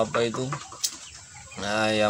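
Rooster (ayam jalu) clucking nearby in short harmonic bursts, with a pause in the middle and a longer, drawn-out call at the end; a voice may be mixed in.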